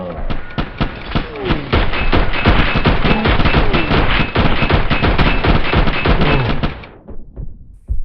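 Close-quarters gunfire in PUBG Lite rattles in rapid automatic bursts, loud and near. Dense shots run nonstop for about seven seconds, then stop abruptly and leave a few faint thuds.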